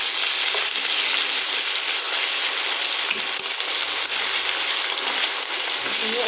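Onion fries with ginger garlic paste in a pan, a loud, dense and continuous sizzle that holds steady throughout, close up, with a few faint stirring touches and no voices.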